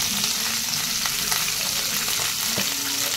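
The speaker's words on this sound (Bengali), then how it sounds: "এবার আমি নেড়ে ছেড়ে ভেজে নেব।" Prawns frying in hot oil with turmeric, a steady close sizzle with occasional light stirring scrapes, no voices.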